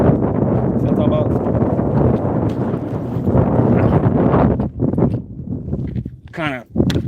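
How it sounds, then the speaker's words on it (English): Strong wind buffets the microphone at an outdoor firing range, a dense roaring rumble that runs almost without a break and eases briefly near the end. A person can be heard moving and talking close by. "I'm sure y'all can hear the wind"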